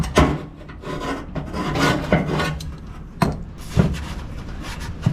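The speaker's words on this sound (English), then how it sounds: "I'll do the I think it's the 80 grit, 120, 240, get it all nice and rough" An engine bay is hand-sanded with 80 grit sandpaper in rough, uneven scraping strokes, close and fairly loud, with a few sharper knocks between passes.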